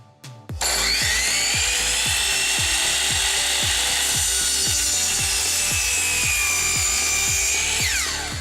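A hand saw cuts through a wooden pilaster for crown molding, with steady rhythmic back-and-forth strokes, loud and close, running without pause for most of the clip.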